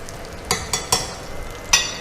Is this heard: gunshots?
no